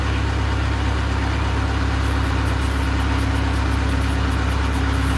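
Fishing boat engine running at low trolling speed along a channel, a steady low drone with a constant hum, close and unbroken, with no talk.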